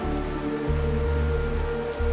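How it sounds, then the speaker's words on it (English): Steady rain from the video game Honkai Star Rail falls in a continuous wash of drops, alone and fairly close, with a soft tonal hum beneath and a brief louder bump at the very end. "This is the sound of rain."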